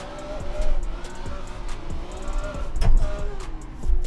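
A brand-new car's engine runs roughly during a hot lap on a race track, sputtering like a badly running lawnmower, with a loud uneven droning hum and irregular surges over about four seconds.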